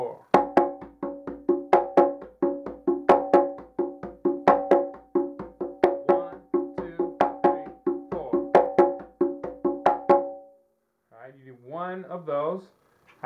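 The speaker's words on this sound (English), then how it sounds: "Here's a breakdown of the paradiddle-diddle exercise for congas." Congas play a paradiddle-diddle exercise as a fast, steady stream of sharp slaps and open tones for about ten seconds, close and clear, then a brief spoken voice follows.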